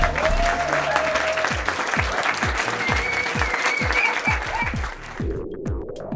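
Loud audience applause fills the room at a company-of-the-year award presentation, with rhythmic deep thumping beats running underneath, the clapping thinning out toward the end.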